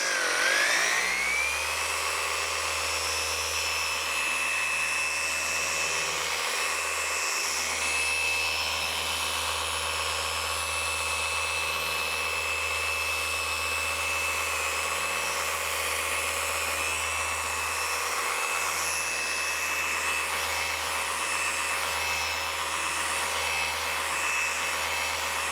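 A paint correction polishing machine runs steadily, a loud continuous whine that rises in pitch as it spins up in the first seconds, then holds an even drone with no talking.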